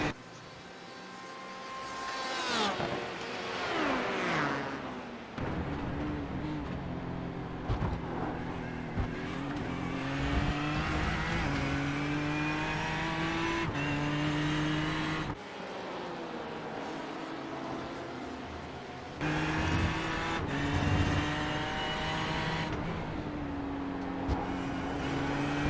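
LMP1 race cars at Monza in a racing video game, engines whining loud and continuous with rising pitch sweeps and abrupt gear-shift drops, sustained throughout.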